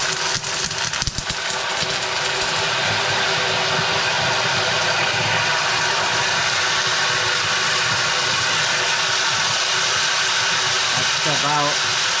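A micro hydro Pelton turbine running at full power at about 50 psi gives a loud, steady broadband rush of spraying water with a continuous mechanical hum underneath, unbroken for the whole stretch.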